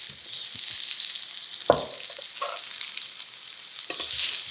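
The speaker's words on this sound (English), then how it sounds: "It's been searing for a couple minutes." Vegan food sears in a pan on a stovetop with a continuous bright, hissing sizzle, marked by a few soft knocks and scrapes of a utensil close by, without talk.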